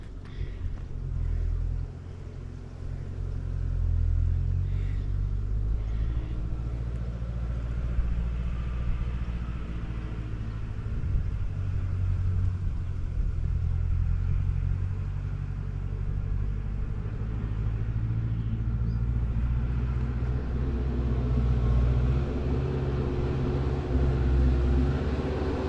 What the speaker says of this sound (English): There's something coming, but I'm not sure from what direction. Might be a tractor coming up that way.